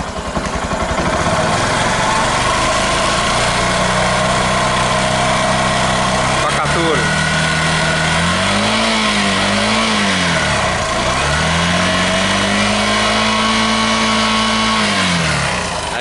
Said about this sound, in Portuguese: a moto tá aqui. Tá na marcha lenta. Ó, eu vou acelerar